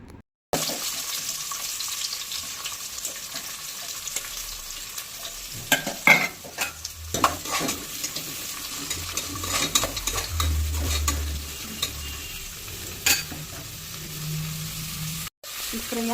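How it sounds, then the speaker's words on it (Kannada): Sliced onions fry with salt in a pan for a mushroom biryani, a steady close sizzle broken by scraping stirs and clattering utensil knocks, with short stretches of running water. "ಈರುಳ್ಳಿ ಹಾಕಿದಾಗ ಅದ್ರ ಜೊತೆಗೆ ಸಾಲ್ಟ್ ಕೂಡ ಹಾಕ್ಕೊಂಡು ಫ್ರೈ ಮಾಡ್ಕೊತೀನಿ"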